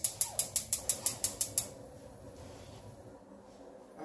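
Nine sharp, evenly spaced clicks from a gas stove igniter knob being turned, near and crisp over about a second and a half, then a low hiss of room noise.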